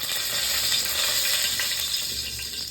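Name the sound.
water pouring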